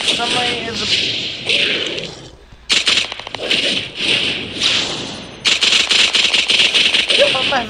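Rapid bursts of automatic gunfire in the Hero Wars video game, dense rattling volleys that drop out briefly and then resume loud and continuous, with voices talking over the action.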